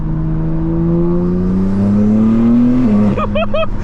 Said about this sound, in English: It sounds like a JDM turbo car to me.